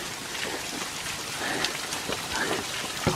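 A forest waterfall at a Tennessee nature preserve spills off rock like a sheet of rain. Close, dense, even patter and splashing continue without a break and with no voices.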